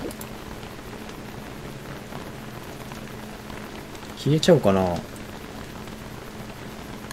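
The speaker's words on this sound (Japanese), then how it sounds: "雨降ってくんの？" Rain falls in the island survival game Don't Starve: Shipwrecked as a steady, even hiss throughout, and a voice briefly speaks over it midway.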